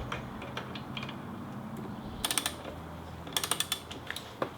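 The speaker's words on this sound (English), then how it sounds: "I'm going to take this wrench and I'm going to tighten it" Wrench clicking as it tightens the rear axle nut on a Kawasaki Ninja 250 motorcycle during a tire change, two short bursts of sharp ratcheting clicks, close and fairly quiet.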